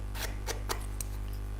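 Scissors scraping along the edges of craft planks to rough them up, a few quick faint scratchy strokes over a low steady hum.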